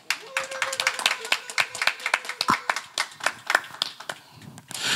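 People at a London press conference for a gospel singer clap in distinct, fairly close handclaps from a modest group, irregular and thinning out toward the end, with some talk mixed in.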